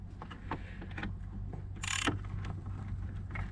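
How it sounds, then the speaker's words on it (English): Wrench turning during a short shift adapter install, faint clicking ratchet and metallic mechanism sounds in a quiet space, with a brief louder scrape midway. "I can get my wrench back into this one again."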